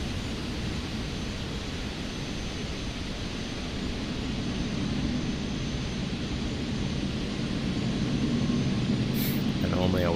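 Jet airliners at Sydney airport make a steady broadband engine roar heard from a moving car, constant and fairly loud throughout.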